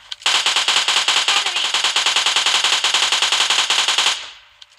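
Rapid machine gun fire rakes a boat in a shooter video game, one long sustained burst of evenly spaced loud shots lasting about four seconds before cutting off abruptly, with no talk over it.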